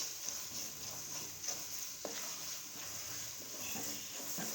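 Spinach sautéed and stirred into masala for aloo palak, with intermittent scrapes and clanks of the spoon against the pan over a soft, continuous sizzle, close by with no talking.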